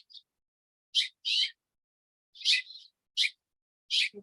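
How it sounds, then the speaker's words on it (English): Small birds at a nest on a patio give short sharp chirps and brief song phrases, about six separate calls spaced by silence, fairly close and clear. "We've got a bird's nest on our patio, so they're currently singing and feeding their babies."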